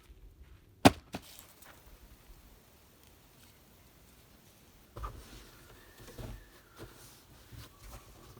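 Firewood gathered and broken at a mountain campsite: a sharp snap early on, then scattered rustling and cracking of sticks at low volume.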